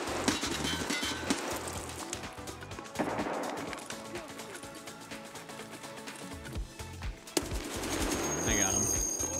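Muffled gunfire comes through a wall in the shooter Escape from Tarkov, with bursts of rapid shots and thuds separated by pauses, loud and close, mixed with game noise and a voice talking.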